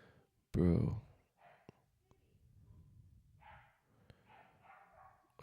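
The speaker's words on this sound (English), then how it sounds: "I just hear my puppy out here going ham" A puppy lets out a sharp, loud bark close by, followed by faint clicks and a few soft, distant yips against a quiet room.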